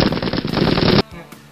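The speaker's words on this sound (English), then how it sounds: "Then gunfire!" A rapid burst of automatic gunfire rattles loudly for about a second, then cuts off abruptly, leaving a quieter tail with a couple of faint thuds.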